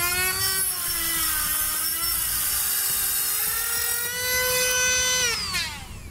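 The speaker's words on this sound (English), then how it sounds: "Now the handle nut that you've got here, you can use snips or shears or a rotary tool." A rotary tool whines steadily as it trims off the handle nut on a Draw-Tite Class 2 trailer hitch being installed on a 2013 Buick, a loud high-pitched tone that dips slightly in pitch as it cuts, then drops away at the end.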